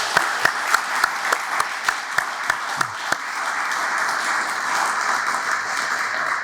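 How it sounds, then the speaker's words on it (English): A dinner audience at a civic association academic event applauds scholarship students. A few sharp, evenly spaced claps grow into dense, steady applause that fills the room and carries on without voices. "let's again give a round of applause to these students"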